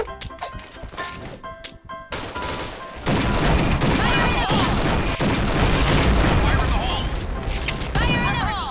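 Barrett sniper rifle fire in the online shooter Point Blank, loud sharp shots with heavy booming reports amid dense game action, continuing across the whole stretch.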